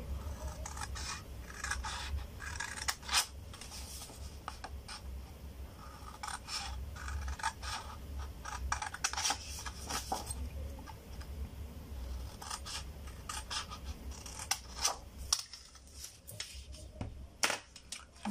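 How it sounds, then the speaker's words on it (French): Scissors snip through paper to make a tea bag box, a steady run of close, crisp cuts and rustles that pauses briefly near the end before resuming. "On fait en sorte de couper le plus droit possible."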